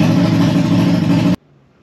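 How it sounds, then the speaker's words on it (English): A Polaris RZR XP 1000 side-by-side with an RPM 2.5-inch E-valve side dump exhaust set wide open roars loudly and steadily up close for over a second, then cuts off abruptly to near silence. "I'm going to have the exhaust on the open, so it's a wide open exhaust. So when she fires it up"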